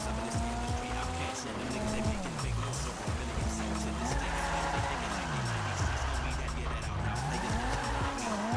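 A car drifting in GTA 5 on a rain-soaked road, engine revving up and down with tires squealing and skidding in sweeping slides, close and continuous.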